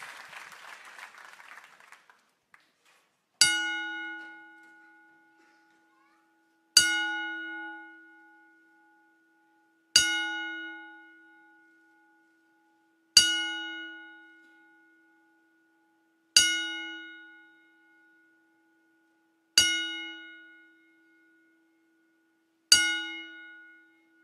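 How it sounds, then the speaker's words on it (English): A single bell is struck at a measured ceremonial pace, each clear metallic toll ringing out and slowly decaying before the next; seven tolls are heard after a brief burst of applause. "Please rise as we toll the bell 10 times."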